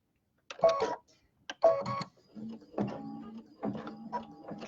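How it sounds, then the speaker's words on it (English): An embroidery machine sews a straight line across a quilt block, its needle mechanism whirring and clattering in short bursts separated by brief pauses, close by and moderately quiet. "It's going to sew my straight line across the top."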